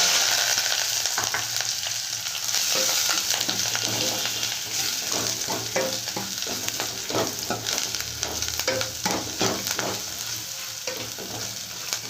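Spices frying in oil for Rayalaseema pappu charu, a steady close sizzle with occasional stirring scrapes throughout, no talk.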